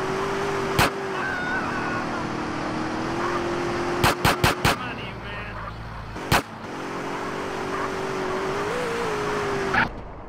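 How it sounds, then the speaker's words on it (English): Car driving in GTA San Andreas, a steady engine drone with a few sharp impact clicks and a quick burst of clacks partway through, moderately loud and continuous. "I don't drive as bad as CJ."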